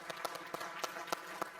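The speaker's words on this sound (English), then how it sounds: "That deserves a round of applause." A live show audience gives scattered, faint applause, a few distinct claps standing out over a soft background of hands, heard from some distance.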